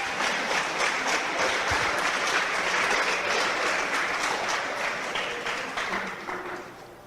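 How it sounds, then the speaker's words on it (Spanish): A church congregation claps together for people called forward during a sermon, a broad sustained wash of applause that holds steady before tapering off toward the end. "Denle un aplauso"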